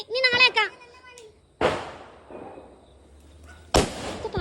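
Firecrackers burst during a home Vishu celebration: two sharp, loud bangs about two seconds apart, each decaying quickly, with a voice heard briefly before the first crack.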